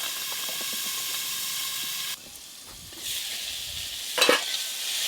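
Cauliflower fries with salt and turmeric in a pan, a dense steady sizzle that briefly drops quieter, then swells again with a sharp burst of hissing near the end as the pieces are pressed and stirred.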